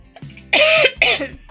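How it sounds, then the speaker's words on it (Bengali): Two harsh, close coughs from a person with a cold, a short burst and then a second one, loud and separated by a brief pause. "ঠান্ডাতে কাশি হচ্ছে"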